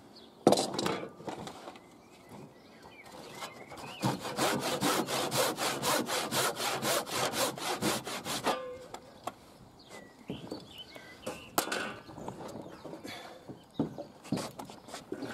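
Handsaw cutting through a timber hip rafter on a trussed roof, heard as a fast, steady run of rhythmic back-and-forth strokes, then scattered knocks and handling sounds; close and fairly loud, with no talk.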